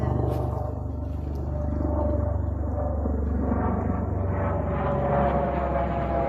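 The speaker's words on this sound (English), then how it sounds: "look at that helicopter" A helicopter flies over a Pretoria security estate neighborhood, a steady low rumble and rotor drone holding throughout at moderate distance, with faint voices in the background.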